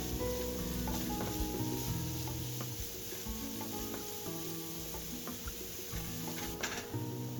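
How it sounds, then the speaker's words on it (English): Carrots and other vegetables fry in a pan for borscht, giving a steady, close sizzle that runs unbroken the whole time with faint stirring clicks. "Then add the carrots. If the vegetables are browning too fast, reduce the heat."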